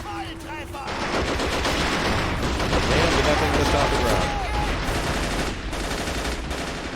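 Sustained machine-gun and rifle fire rattles across a WWII battlefield in Men of War: Assault Squad 2, loud, dense and continuous with heavier reports mixed in, while someone speaks briefly over it.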